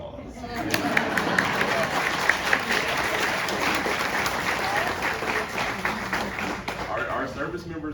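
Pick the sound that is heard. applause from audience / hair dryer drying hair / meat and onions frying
applause from audience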